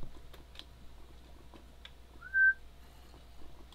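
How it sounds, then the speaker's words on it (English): A single short whistle rising and falling, heard once over a quiet background of faint clicks and ticks during a Minecraft gaming session. "I heard a whistle."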